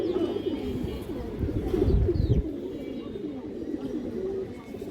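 Indian high flyer pigeons coo in a low, soft, continuous murmur at close range, with a slightly louder swell in the middle and faint background noise.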